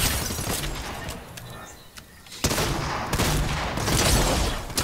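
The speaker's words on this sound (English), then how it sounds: "What the heck is that gun? It's a shotgun, dude. It's slugs." Shotgun slug fire in the video game Fortnite, dense bursts of sharp shots and impacts filling the mix, with a brief lull midway before loud firing resumes.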